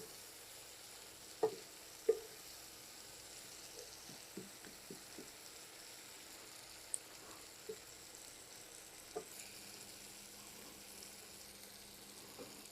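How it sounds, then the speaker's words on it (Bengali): Diced medium tomato cubes sautéing with spices in a pan give a faint, steady sizzle, with a few soft spatula taps scattered through. "এই টমেটোটাকে কষিয়ে নিলাম"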